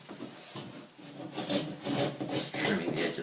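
Steady rasping scrape of a blade trimming a painted edge on plasterboard during a DIY hole patch repair, close and continuous with repeated strokes, no talk.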